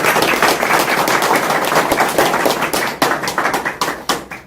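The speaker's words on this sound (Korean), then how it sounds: "우리 주 의원님에 대해서 한번 박수로 한번" An audience at a Korean political forum claps for a lawmaker: dense, loud applause with crisp overlapping claps that thins into scattered, separate claps near the end.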